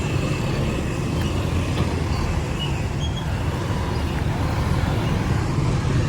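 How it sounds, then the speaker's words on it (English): Steady street traffic of motorized tricycles and cars in Dumaguete, Philippines, a continuous dense roadway rumble and engine drone with no clear individual passes. "tricycles are the main form of transportation"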